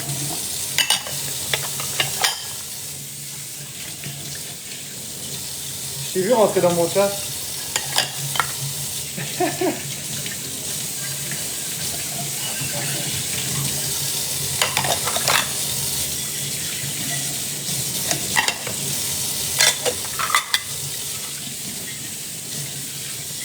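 Dishes being washed in a kitchen sink, with water from the tap running steadily and clinks and splashes of dishware throughout, while a person speaks briefly in French.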